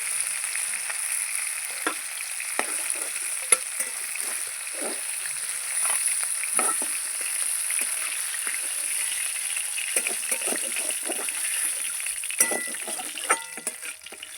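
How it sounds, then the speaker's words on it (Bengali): Katla fish heads sizzling in hot oil in a wok, a steady close frying hiss broken by scattered crackles, pops and occasional light clinks of a utensil, with no voices. "মাছের মাথা আমার ভাজা হয়ে গেছে"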